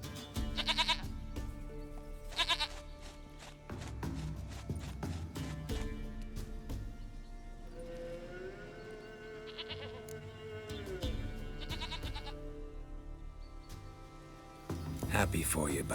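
Goats bleating in The Witcher 3: Wild Hunt, several loud wavering bleats at intervals over about sixteen seconds, with someone speaking between them and some hoof clopping.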